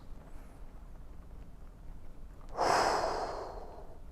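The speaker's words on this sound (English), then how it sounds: "2 more deep breaths." A single deep exhale during a hip stretch, a loud close breath out that swells suddenly after quiet and then slowly fades.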